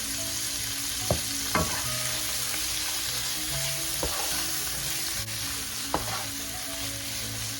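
Ground pork and string beans fry in a pan for sitaw adobo, giving a steady, close sizzle throughout, punctuated by a few soft clinks and scrapes of stirring.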